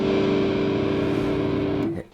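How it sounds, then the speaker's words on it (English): An electric guitar played through an amp with distortion on the bridge pickup, a single sustained chord ringing loud and buzzy before being cut off abruptly near the end. "When you play electric guitar with an amp with some distortion"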